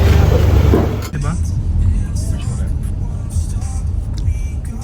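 Road traffic on a highway in Bicol, Philippines, a car rumbling loudly at first and then passing, followed by a lower steady roadway hum with people talking over it.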